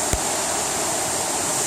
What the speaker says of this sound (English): Yeah, nice little waterfall here.